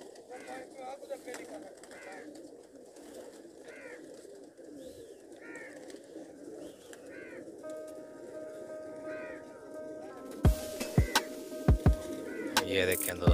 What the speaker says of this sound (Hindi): अजमल भाई के कबूतर हैं ये जी।